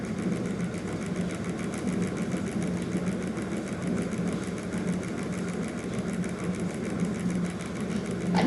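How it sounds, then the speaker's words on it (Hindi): Finely chopped onion fries in oil in a pan for a chicken handi, with a steady, even sizzle that runs unbroken throughout and no voices. "अनियन जो है वो अच्छे से फ्राई होना शुरू हो चुका है"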